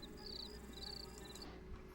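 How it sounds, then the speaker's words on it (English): Crickets chirp in steady, repeating high bursts over a low background hum, fairly faint, then the chirping stops near the end, leaving quiet. "So watch this part, how the crickets go quiet."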